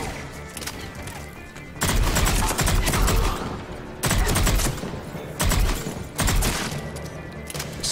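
Sniper rifle fire in the video game Mass Effect 3 comes as several loud, close bursts of gunfire, each lasting one to two seconds, separated by brief quieter gaps.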